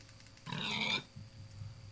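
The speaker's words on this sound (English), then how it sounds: "Oh, look at that group of pigs." A pig in Minecraft with the Traincraft mod lets out a single short oink, followed by softer grunting noises, fairly quiet with no talk.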